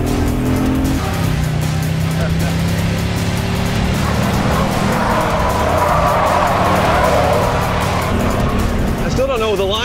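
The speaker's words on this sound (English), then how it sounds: "these drift tires are not used to this kind of grip" Drift car on imported, modified sports cars racing around a track, engine roaring loud and steady with sustained tire squeal and skidding as the car grips and slides, someone talking excitedly over the noise throughout.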